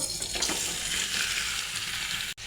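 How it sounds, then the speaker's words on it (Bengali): Vegetable stems are poured into hot oil for a Bengali kachki fish and potato curry, giving a loud, steady close sizzle and hiss of frying that cuts off abruptly near the end. "আগে থেকে তেল বসিয়ে দিয়েছি, এখন ডাঁটাগুলো ঢেলে দেব"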